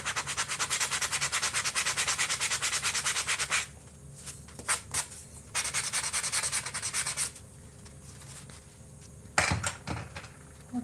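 A sanding block rubs back and forth on wooden craft trees in quick, steady scratchy strokes, then pauses and gives a few short separate rubs.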